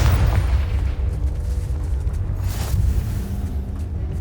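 A Confringo explosive spell blast in the Hogwarts Legacy game, a loud, heavy rumbling boom that fills the scene and rolls on steadily without any pause.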